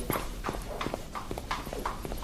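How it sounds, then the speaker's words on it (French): Horse hooves clip-clop in an even walking rhythm, close and clear, about two steps each second with no voices over them. "Mais il est magnifique, ce cheval."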